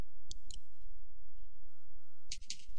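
Sharp computer mouse clicks on an add row button in LoadRunner software, heard as a quick pair, then a pause, then another pair, close and crisp over near silence.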